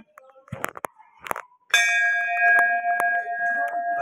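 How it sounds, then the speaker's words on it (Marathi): A temple bell in a Vitthal temple is struck during a wedding, ringing out loudly with a sustained, shimmering tone and a couple of further strikes, after some faint knocks and rustling. "करवली बघा, घंटा वाजवते."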